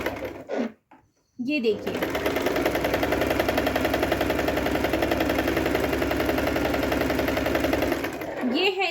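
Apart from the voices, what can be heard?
Singer Promise 1409 sewing machine running while stitching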